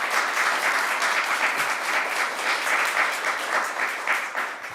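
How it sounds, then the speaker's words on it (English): A large audience applauds at a governor's bill-signing ceremony, with dense, steady clapping filling the room at an even level for several seconds before easing slightly at the end. "Let's give them a round of applause."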